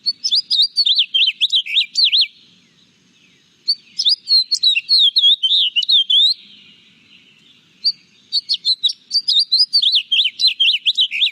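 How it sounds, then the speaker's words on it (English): Recorded bird song played back during a backyard birding livestream: three bursts of bright, rapid, high-pitched warbling and chirping phrases, each about two to three seconds long and separated by short quiet gaps, clear and alone with no talking. "So I'll play for you their song as well."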